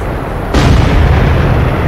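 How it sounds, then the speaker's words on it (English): In the Wolfpack submarine video game, flares are fired: a sudden loud boom cuts in over a low rumble and rolls on as a dense sustained roar. "Shooting flares."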